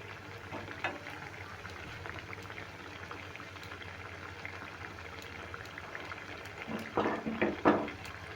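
Semolina ros bora fritters fry slowly in oil over medium heat, giving a faint, steady bubbling hiss, with a few louder crackles near the end.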